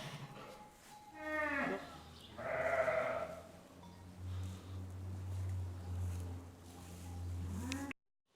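Sheep and lambs bleat in lambing pens, several calls overlapping at close range, including a long low-pitched bleat and higher lamb cries, before the sound cuts off abruptly.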